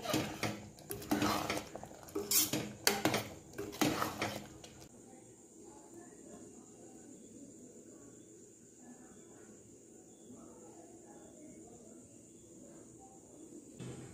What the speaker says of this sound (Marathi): उसळ एकदा व्यवस्थित ढवळून घ्या आणि 1 ते 2 मिनिटं मीडियम फ्लेमवर शिजू द्या।